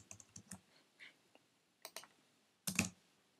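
Key clicks on a computer keyboard while code is typed, a few light taps early, scattered single strokes, then a loud close burst of two or three clustered keystrokes near the end, with quiet gaps between.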